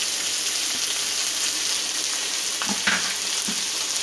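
Green chilies sauté in hot oil with curry leaves for a dried fish kuzhambu, making a loud, even hiss of frying that runs throughout, with a few brief scrapes of a spoon near the end.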